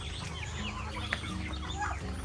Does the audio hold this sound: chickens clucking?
yes